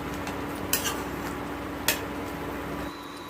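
A spoon scraping and clinking in a pot of chickpea greens saag, two sharp metallic knocks over a steady bubbling cooking hiss, close and without talking.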